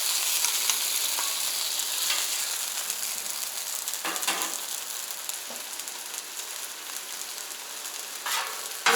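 USDA Prime ribeye beef sizzles loudly on a Camp Chef griddle for cheese steak sandwiches, a dense continuous crackling hiss with occasional scrapes of a spatula and no talking.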